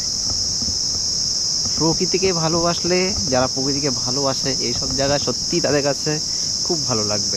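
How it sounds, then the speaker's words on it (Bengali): A loud, continuous high-pitched drone of crickets fills the forest on Henry Island near Bakkhali, with a person speaking over it for several seconds. "এই পরিবেশটা, ঝিঝি পোকার ডাক এত সুন্দর লাগছে"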